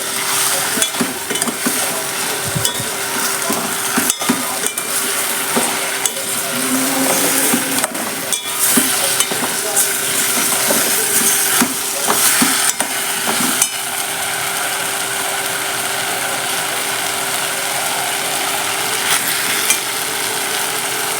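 Brinjal and drumstick pieces sauté in a pan for kuruma, a continuous close sizzle broken by repeated scraping stirs and occasional utensil knocks, with no talking.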